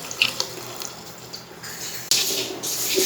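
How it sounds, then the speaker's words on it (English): Water pours from a tap into a pan of green curry with onion, tomato, ginger and masala, a steady broadband rush that swells louder in the last second, with no talking. "Add water as required."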